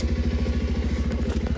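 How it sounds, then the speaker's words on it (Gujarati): A motorcycle engine running steadily after starting on an early morning outside, with a close, loud, rhythmic low chugging beat throughout and faint clatter on top. "જો બાઈક તો ચાલુ કરી દીધી મેં નીચે ફાઇનલી"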